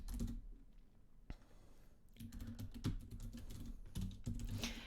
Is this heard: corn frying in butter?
no